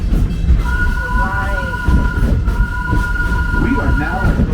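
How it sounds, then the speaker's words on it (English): Wildlife Express train rolling at Disney's Animal Kingdom, a loud steady rumble of wheels and carriage with a long two-tone wheel squeal running high over it, heard from on board under a murmur of voices. "Welcome aboard the Wildlife Express, with service from Rafiki's Planet Watch to the village of Harambe."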